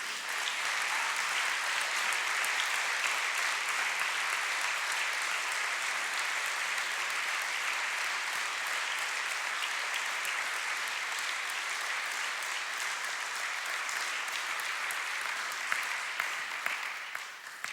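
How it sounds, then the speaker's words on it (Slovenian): Sustained applause from an audience at a municipal holiday ceremony in Sevnica honoring award recipients, a broad even wash of many hands clapping at moderate distance, holding steady for the whole stretch and thinning slightly near the end. "iskrene čestitke vsem nagrajencem, ki si zagotovo zaslužijo še en ogromen aplavz"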